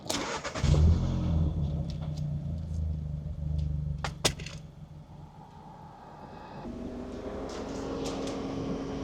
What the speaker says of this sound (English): I'm now going to start the car